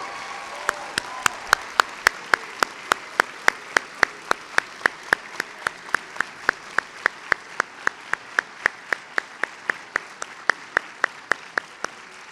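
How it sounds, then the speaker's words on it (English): An audience at a spring awards convocation claps for faculty award winners, settling into a steady, evenly spaced rhythmic beat of sharp claps that continues unbroken to the end. "How about a round of applause for all of our faculty winners today?"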